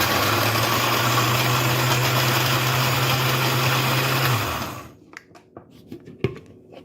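A countertop blender whirs steadily as it blends cashews with a small amount of water for about four and a half seconds, a loud continuous motor drone with a low hum. It then stops abruptly, leaving faint clicks and handling noises.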